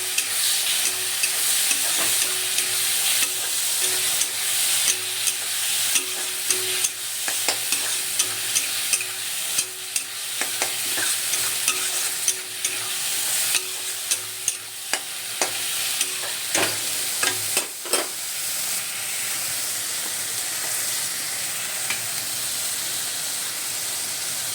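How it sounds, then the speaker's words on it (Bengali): Ginger, garlic, onion and green chili paste fry in hot oil, a loud continuous hissing sizzle punctuated by repeated sharp scrapes and knocks of a spatula stirring, close up, easing slightly toward the end. "আদা রসুন, পেঁয়াজ বাটা আর কাঁচা লঙ্কা বাটা আমি একসাথে দিয়ে দিলাম,"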